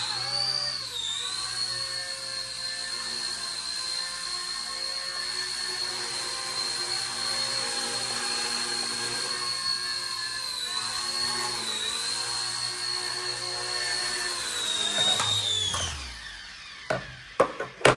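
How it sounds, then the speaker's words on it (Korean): RC ERA A60 Bell 206 model helicopter, a small 4-channel toy, with its rotor motor spinning in a steady high-pitched whine for about fifteen seconds before spooling down and stopping, followed by a few clicks. "그 다음에 모터 언락을 해주고 여기서 올립니다."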